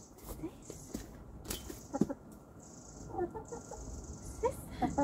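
Chickens at a chicken house cluck softly in a few short, scattered calls close by, mixed with footsteps and rustling, with a person speaking at times.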